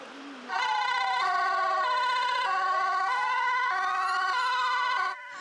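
Loud fire engine sirens wail and yelp together, several overlapping rising and falling tones sounding continuously before cutting off near the end.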